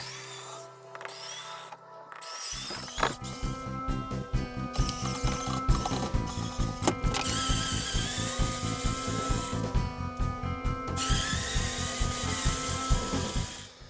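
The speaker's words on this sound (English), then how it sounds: "high-torque screwdriver ripping up my screws" A Tiger 6-volt cordless drill whirs steadily at close range with repeated short bursts and stops as screws are backed out of a motor home bathroom door, against a constant mechanical buzz.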